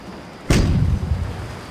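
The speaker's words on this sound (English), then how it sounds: "That was the cannon signaling that the Australian boat just crossed the finish line" A single loud cannon boom signals a boat crossing the finish line in the Virtual Skipper 5 sailing game, one sharp blast that rolls off in a low rumble over faint background ambience.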